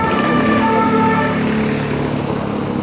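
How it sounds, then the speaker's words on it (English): A police car siren in Paris near Les Invalides wails through street traffic, its tones sliding steadily and sounding fairly close and loud over the city rumble. "That police car."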